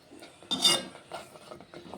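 A ladle scraping and clinking against a pan as thick tomato chutney is stirred by hand, with one louder metallic scrape followed by softer repeated stirring strokes, close and alone.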